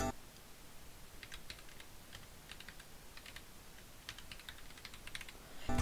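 Quiet, steady typing on a computer keyboard, with clusters of light key clicks in irregular bursts and no voice.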